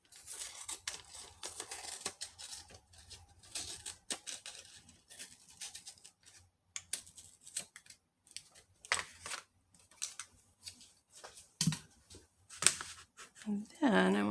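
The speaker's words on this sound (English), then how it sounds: "I'm going to flip her over and use my junky scissors" Old junky scissors trim the edge of a wax collage with crisp, irregular snips and crinkles scattered through the clip, close and fairly quiet, while a person talks intermittently.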